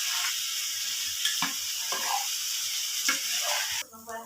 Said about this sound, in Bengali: এবার যে আমি আলুটা রেখেছিলাম সেই আলু দিয়ে দিচ্ছি।